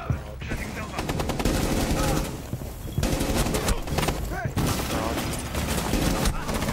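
Dense, loud automatic gunfire in the video game Rainbow Six Siege, sustained rattling bursts with brief pauses, layered with game noise and occasional voices.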